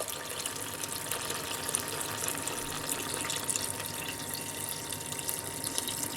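About 1.5 litres of water pours steadily into a cooking pot of squash and carrot soup, a continuous hissing gush, unbroken for several seconds, with no voices.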